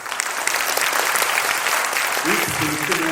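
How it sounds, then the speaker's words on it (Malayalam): Audience applause filling the hall at a Malayalam business talk, dense steady clapping throughout, with a voice starting to speak over it near the end. "ഒന്ന് കൈയടിക്കാം"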